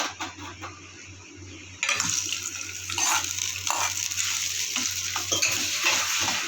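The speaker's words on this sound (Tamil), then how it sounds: "இப்போ நம்ம தாளிச்சதை ஊற்றிக்கலாம்" Hot tempering is poured into mashed curd rice with a sudden loud sizzle partway through, followed by spoon stirring and scraping against the bowl, all close up.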